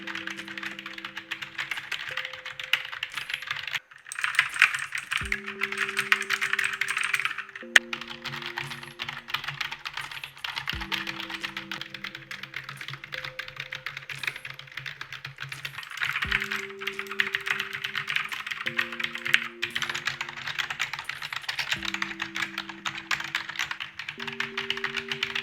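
Soft, muffled keystrokes tap away in an irregular stream, a steady typing patter on a quiet budget membrane gaming keyboard with a faint hum beneath.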